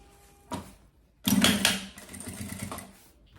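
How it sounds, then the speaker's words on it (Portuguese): A sewing machine stitches along the handle of a fabric travel handbag, with a short burst followed by a longer close whirring run of rapid needle strokes that fades out. "costura com cuidado em cima da parte que é a alça"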